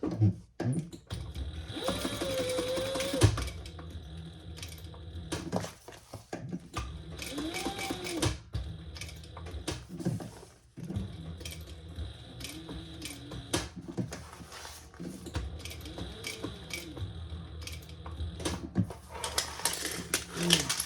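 A sewing machine stitches a small reinforcing box onto a bag, running in several rapid mechanical bursts separated by short pauses and repositioning clicks, with a quiet voice now and then between runs.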